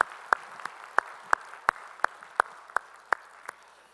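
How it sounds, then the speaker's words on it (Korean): A few people in a church congregation clap in a slow, evenly spaced rhythm, about a dozen sharp, distinct claps over a quiet, faint background. "우리 찬양 받으실 주님께 영광의 박수 올리겠습니다"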